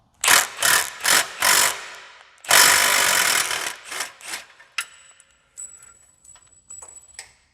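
Ratchet wrench working on the exhaust flange bolts of a supercharged Corvette, heard as several loud bursts of rapid clicking followed by a longer run, then quieter scattered clicks and a faint metallic tone.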